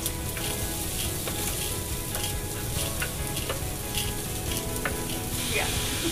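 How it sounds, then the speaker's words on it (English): Vegetables and onions sauteing in olive oil over high heat, giving a steady close sizzle with scattered ticks and spatters, with no voices over it. "We're going to saute the vegetables for about 5 minutes until the onions are translucent"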